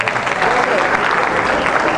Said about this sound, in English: Give me a round of applause for that.